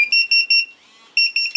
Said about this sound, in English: It just uses the light beep and vibration.